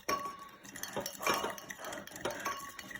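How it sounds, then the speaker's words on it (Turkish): A foamy rainbow children's experiment mixture stirred in a bowl, with a spoon scraping and clinking against the bowl in three distinct rhythmic strokes, close and fairly quiet, no talking. "Bol bol karıştır."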